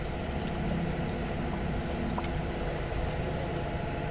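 Water pours into the radiator of a Nissan Livina with an overheating fault, a dense continuous rushing wash that holds steady and loud from start to finish, no voices.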